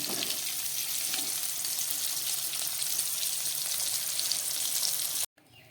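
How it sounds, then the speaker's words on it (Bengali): A steady, loud hiss of hot oil sizzling fills the clip as fried fish is poured with its oil into a pan, then cuts off abruptly near the end. "এবার এই তেল সমেতই মাছটাকে আমি ঢেলে নিচ্ছি।"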